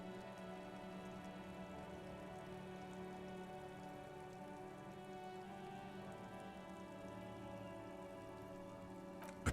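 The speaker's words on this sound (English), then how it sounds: "Rain falls onto the roof of a woodshed." Steady, faint rain patters on a woodshed roof in a video game, even and continuous, with a soft tonal hum underneath and no voices.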